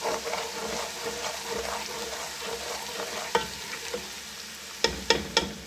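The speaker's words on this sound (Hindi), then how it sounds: "इसको अच्छी तरह भून के 2 मिनट देंगे कि मसाला का कच्चापन ख़त्म हो जाए" Garam masala and spices frying in a pan for Lahori white chickpeas, a steady sizzle with stirring scrapes and a few sharp utensil clicks near the end, close and alone.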